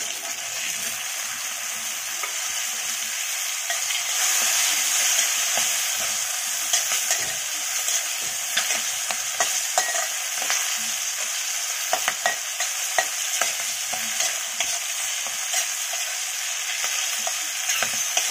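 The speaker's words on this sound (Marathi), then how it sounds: "आता लसूण घालूया। वाटाणा घालून घेऊया।" Garlic and peas are stir-fried in a pan for a young jackfruit dish, a bright steady sizzle broken by frequent ladle scrapes and taps that grow busier toward the end, near and without speech.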